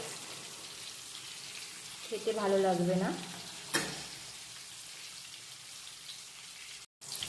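Eggs frying in oil over a medium flame, a steady crackling sizzle with a spoken remark in the middle and a brief clatter shortly after.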